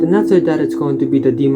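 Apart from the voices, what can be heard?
No distinct noise like a dog, phone or traffic.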